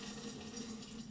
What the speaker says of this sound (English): She's adding more water to the container